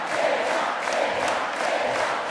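A live concert crowd at a show in Dornbirn in 2008 roars in a continuous wash of cheering and applause. The noise is loud and steady throughout.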